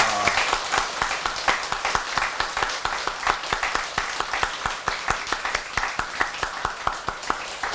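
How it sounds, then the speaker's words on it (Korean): An audience at a Buddhist temple ceremony, a Baekjung ancestral memorial prayer service at Deokyang Seonwon, claps together in a steady, rhythmic applause, many hands striking in unison, continuous and fairly close throughout. "조상님들께 박수로 회양합니다"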